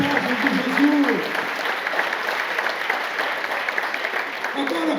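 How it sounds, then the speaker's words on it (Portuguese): A church congregation applauds in steady, continuous clapping that fills the room at moderate loudness, with a voice briefly audible underneath. "Aleluia, pode aplaudir Jesus"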